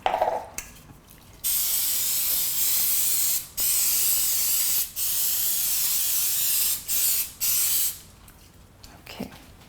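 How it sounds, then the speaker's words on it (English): Coconut oil nonstick cooking spray hisses into a four-cavity mini loaf pan in a series of about five steady, close bursts separated by short pauses, with no talking. "I'm gonna take my loaf pan over here and spray it with nonstick spray"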